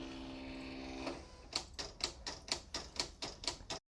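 A Silhouette Cameo 3 cutting machine cutting a rhinestone template, a short whirring motor followed by a regular series of about ten rapid clacking carriage strokes, close and clear, then stopping.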